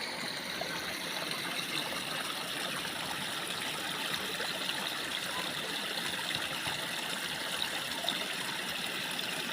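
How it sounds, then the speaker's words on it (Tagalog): Continuous rushing flow of water from a spring, steady and close, with no voices over it. "Kasi bukal po yung tubig na yan, eh."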